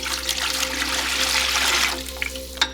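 Hot water pours into a bowl for bread dough, a steady splashing stream that tapers into a few last drips and a small clunk.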